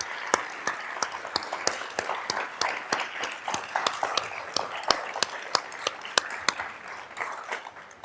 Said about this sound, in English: Let's give Mary a great round of applause.